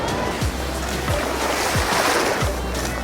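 Ocean waves break and wash continuously on a black sand beach in Bali, a loud broad roar of surf close by with periodic low thumps, no talk.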